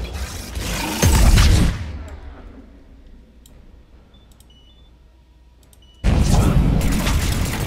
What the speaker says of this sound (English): Time for another grenade, everybody.